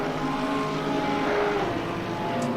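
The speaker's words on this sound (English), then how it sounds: "So just wanted to get the sound of that Porsche." Porsche race car in Assetto Corsa Competizione at Silverstone, engine droning loud and steady at high revs with a brief rise and fall in pitch.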